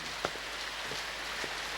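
Rain pours steadily during a drought-ending storm, a dense even hiss of falling water with a few faint soft knocks, no voices.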